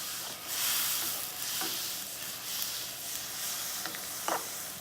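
A spoon stirs spicy chicken and bean soup in a pot, giving soft, irregular scraping and sloshing strokes over a faint steady sizzle, close and fairly quiet with no one talking.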